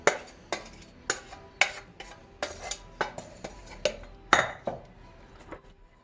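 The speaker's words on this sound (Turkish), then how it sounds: "Hemen şimdi bu karışımı süzme yoğurdumun içerisine döküyorum" Batter mixture poured into strained yogurt and stirred, a utensil knocking against the bowl in a steady rhythm of clinks, close and moderately loud.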